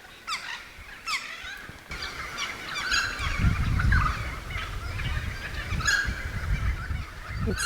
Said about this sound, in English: The birds are magnificent.